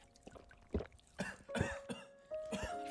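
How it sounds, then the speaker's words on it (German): Coughing sound effect from the video game A Light in the Dark, a few harsh bursts scattered over a few seconds at moderate level, mixed with a breathy voice and game background tones. "Ich finde schön, dass es das Spiel exklusiv Hust-Sounds hat."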